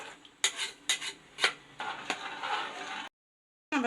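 A spoon scrapes and clinks against a cooking pot while a rice and water mixture with sautéed vegetables is stirred, several sharp metallic knocks followed by steady scraping, close and loud, then a short silence.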